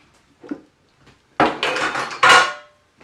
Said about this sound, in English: I'm just going to put the dishes away